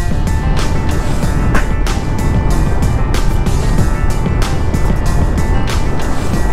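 A motorbike cruises along the Sindukchari hill road in Rangamati, its engine drone buried under a constant loud rush of wind and road noise.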